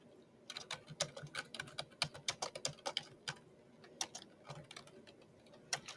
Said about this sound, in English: I can type today.